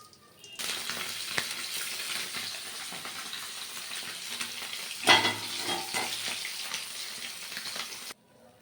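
Pabda fish frying in hot oil, a continuous bright sizzle with a stirring clatter and a brief louder crackle midway, then sudden quiet at the end.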